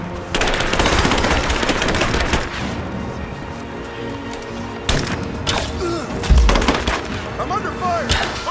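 Rapid machine-gun bursts and gunshots in Rise of the Tomb Raider's Geothermal Valley, loud and close at first, then scattered shots and impacts over a steady game ambience.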